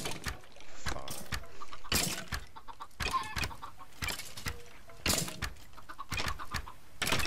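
Chickens cluck repeatedly on a farm in a video game, with the clucks mixed among sharp clicks and thumps throughout.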